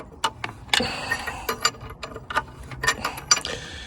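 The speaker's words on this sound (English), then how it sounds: "So use a ring spanner or the correct socket." Ring spanner or socket ratcheting a nut tight on the exhaust of a Smart 450 City Coupe Passion, giving a run of sharp metallic clicks and clunks at close range, irregular in rhythm and with no voice.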